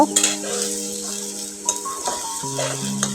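Garlic paste and spices fry in oil for chicken haleem, a steady loud sizzle with a spoon stirring and scraping the pan in repeated strokes, and a few clinks of metal against the pot.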